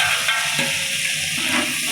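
Vegetable pieces fry in hot oil with biryani whole spices and cashews, a dense close sizzle broken by brief stirring scrapes, steady and loud, no talking.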